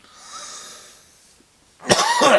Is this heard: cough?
yes